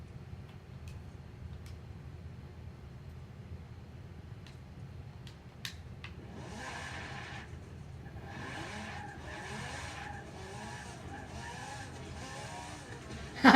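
A race car on racing slicks in the video game Forza 7 accelerates at full throttle around Le Mans, its engine droning steadily before tires squeal and skid in pulsing bursts.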